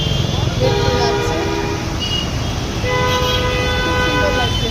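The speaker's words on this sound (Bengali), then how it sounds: "ওই যে মেট্রো যাচ্ছে, দেখুন মেট্রো যাচ্ছে" An elevated metro train passes overhead on a rainy day while people wait at a bus stop, its horn tooting in sustained tones amid steady rumble and street noise.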